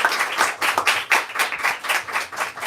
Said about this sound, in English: Let's give these two one last round of applause